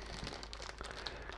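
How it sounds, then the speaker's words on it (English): Plastic bag grabbed at one corner in a kitchen while making eggplant lasagna, a continuous close crinkling rustle with no pauses. "I am going to grab a corner of this bag."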